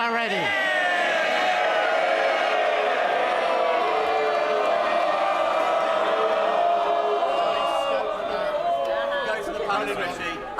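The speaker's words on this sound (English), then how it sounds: "This is the moment for cheering." Loud, sustained mass of cheering and shouting from MPs packed into the House of Commons chamber, a dense roar of voices holding steady before gradually thinning at the end.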